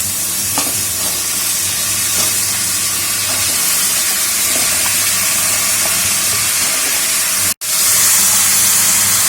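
Chunks of petha (ash gourd) sizzle steadily after being tipped into fried onion masala in a pan, a loud continuous frying hiss with faint stirring scrapes.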